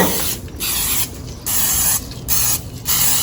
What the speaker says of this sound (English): We're gonna take our pan spray and we're gonna coat our pan